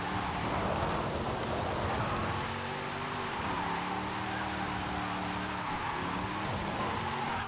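A car drifts in Forza Horizon 5, its rear wheels slipping, with the engine droning and the tires squealing in repeated wavering bursts under sim steering.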